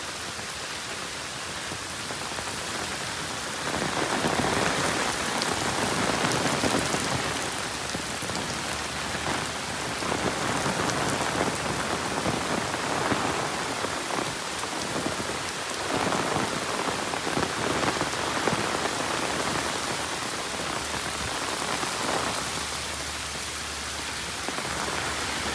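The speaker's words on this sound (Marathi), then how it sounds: "पाऊस लागलाय जोरात." Heavy rain pours steadily on open farm fields, a dense, continuous hiss of drops striking the ground and crops that stays loud and even throughout, with no voices.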